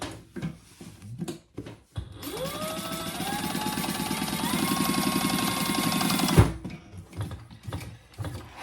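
A sewing machine stitches a curved handbag, running steadily for about four seconds with a rising whir, loud and close, between quieter handling noises before and after.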